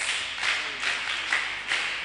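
Children clapping for themselves at a Day of the African Child roadshow, a group applause that comes in about four rhythmic swells, moderately loud and without talk.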